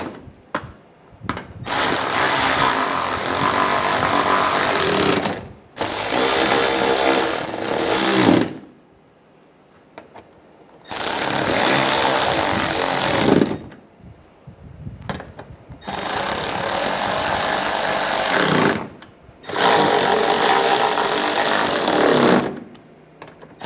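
A power tool drives the bumper cover fasteners on a 2006-2009 Mercedes-Benz E350 in four long, loud, buzzing bursts separated by short pauses, close up and with no talk.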